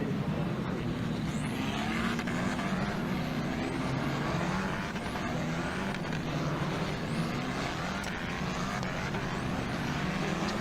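British F4 single-seater race cars head to the grid at the Silverstone GP circuit, making a continuous engine drone with rising and falling passes, moderately distant and without talk.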